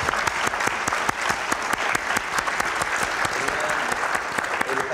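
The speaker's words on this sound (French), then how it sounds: "Je crois qu'on peut l'applaudir." A church congregation applauds after a sermon: dense, steady clapping from many hands fills the space at an even level throughout, with faint voices mixed in.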